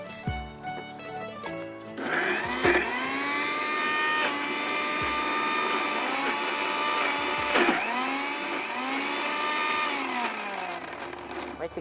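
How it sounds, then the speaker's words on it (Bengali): An electric mixer grinder whirs loudly and steadily for about ten seconds as it purées hot cooked pointed gourd into a smooth paste, its pitch dipping and recovering as the load shifts, with brief sounds before it starts. "গ্রেভিটা করার আগে এটাকে বাটতে হবে। অল্প একটু বেটে নেবো"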